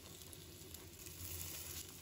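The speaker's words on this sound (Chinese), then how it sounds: "用中小火煎1分钟左右，底部定型。" A pork pie frying in a covered pan over medium-low heat gives a steady, close sizzle with a soft crackling patter that swells slightly near the end.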